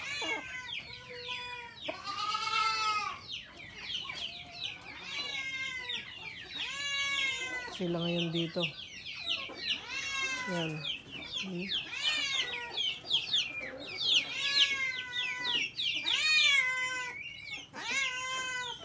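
Brahma chickens cluck and squawk close by in a busy barnyard chorus, with someone speaking briefly over them.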